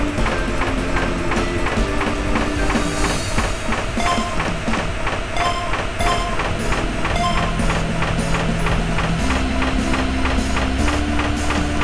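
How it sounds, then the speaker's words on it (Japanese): Toy Shinkansen E5 and E6 series coupled trains arrive in a steady, loud rolling clatter with rhythmic clicking over rails, accompanied throughout by busy layered music. "まもなく列車が参ります。"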